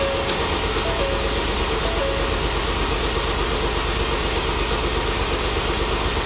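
Ford Transit diesel engine cranking on the starter without catching, a continuous dense, loud mechanical churning and rumble held at constant level throughout.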